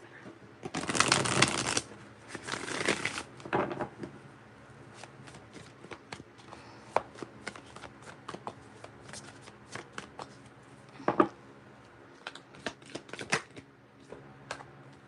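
Tarot cards shuffled by hand, two loud riffling bursts at the start, then scattered lighter taps, flicks and card handling, close and clear in an otherwise quiet room.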